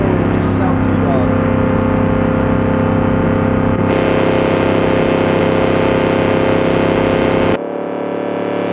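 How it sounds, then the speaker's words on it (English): The engine of the Veers Motor Company Salty Dog land speed vehicle runs loud and steady at close range, climbing in pitch partway through, then cuts off abruptly to a quieter tail. "Just let the engine die."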